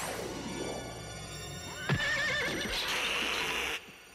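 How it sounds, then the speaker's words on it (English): A horse whinnies in a cartoon comedy scene, one loud, rising then wavering neigh lasting a couple of seconds, close by and with no talking over it. "Don't bring the horse in the house!"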